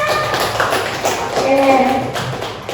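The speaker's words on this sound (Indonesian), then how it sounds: "Ayo kita tepuk tangan dulu semuanya ya, tepuk tangan." A group of people clap their hands during a teachers' training session, with steady overlapping claps at moderate loudness and a few voices sounding briefly underneath.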